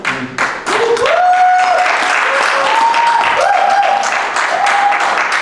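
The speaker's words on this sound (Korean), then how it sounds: "큰 박수로" Congregation in a church hall applauding an evangelism ministry helper: dense, steady clapping fills the room for the full stretch, with a tonal whistle or feedback-like sweep gliding over it.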